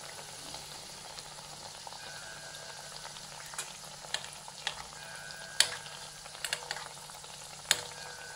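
Potato masala buns frying in hot oil, a soft continuous sizzle with scattered sharp pops and crackles, quiet and close, with no talking.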